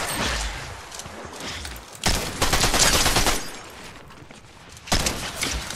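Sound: shotgun firing in a video game

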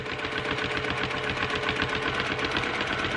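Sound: domestic sewing machine stitching, free motion quilting

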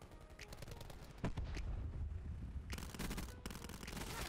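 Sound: gunfire in a Call of Duty video game

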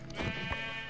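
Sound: sheep bleating in Minecraft video game

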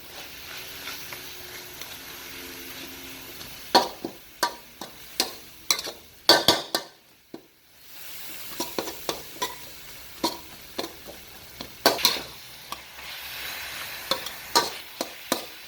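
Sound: stir-frying tamarind chili paste so the sugar melts

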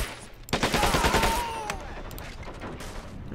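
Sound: gunfire in video game Men of War Assault Squad 2

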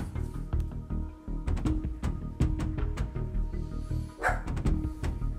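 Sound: dog barking in the background

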